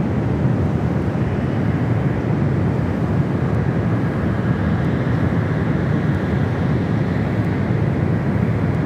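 A Boeing 777 airliner passing at San Francisco International Airport, heard as a steady, loud broadband jet roar with wind buffeting the microphone, sustained throughout with no talk.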